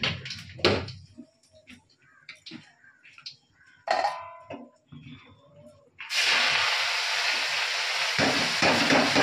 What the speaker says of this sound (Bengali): অল্প করে কালো জিরে দিলাম।